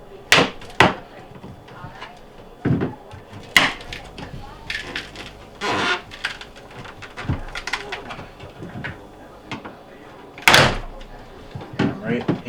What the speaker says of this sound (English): use a flathead screwdriver and pry it down, and it just will all snap apart